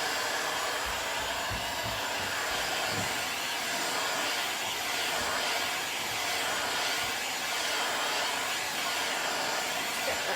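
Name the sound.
heat gun heating crackle finish paint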